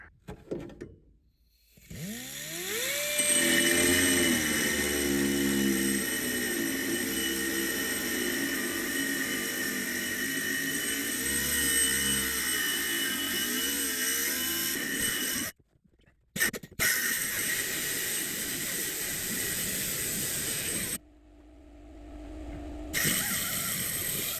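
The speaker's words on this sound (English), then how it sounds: "now for the scary part of taking a cutoff wheel to this column and cutting it apart" A cutoff wheel grinds through a 1928 Ford Model A steering column in a loud, sustained whine that wavers in pitch, breaks off briefly twice and then resumes.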